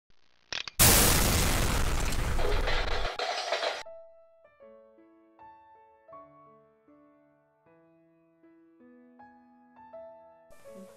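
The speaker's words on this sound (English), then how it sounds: "That, my dear, was a big explosion." A big explosion in a prison-comedy scene bursts loud and close, a roaring blast lasting a couple of seconds before dying away into a gentle, plinking melody.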